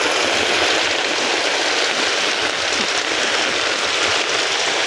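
Heavy rain pours down steadily in a flooded area, a dense unbroken hiss of water falling and flowing that stays loud and close with no voices.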